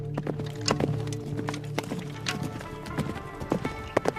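A ridden horse's hooves clip-clop at a steady walking rhythm, fairly close and clear, with a brief faint whinny and some background rustle.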